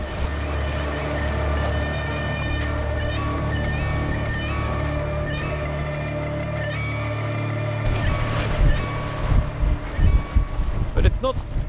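A Nautitech 40 catamaran sails upwind at sea, with steady wind rushing over the microphone, a low droning rumble, and water slapping and sloshing against the hulls that grows choppier toward the end.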